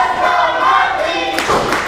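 A wrestling crowd at an indoor independent show roars and cheers for Rocky Webster, a sustained wash of voices with a brief louder burst near the end.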